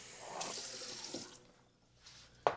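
Water poured from a kitchen tap for cooking rice, a hissing splashing stream that runs for over a second, fades to quiet, then ends with a sharp clink.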